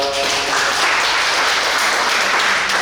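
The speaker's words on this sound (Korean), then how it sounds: "여러분들 큰 박수 부탁합니다" Members of a small island Catholic chapel congregation at Sunday Mass break into loud, close applause, a thick continuous wash of clapping that holds steady with no speech over it.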